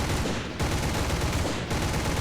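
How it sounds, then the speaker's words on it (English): Rapid aircraft machine gun fire from a Bf 109 E-7/U2 in War Thunder rattles continuously at close range, a dense, loud burst of game gunfire with only brief dips. "And here we are again reduced to machine guns to get some hits in again."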